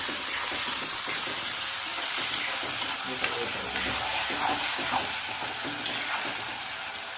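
Chopped potato frying in a pan with oil for Maharashtrian kadhi pohe, giving a steady close sizzle with light stirring scrapes throughout and no talk.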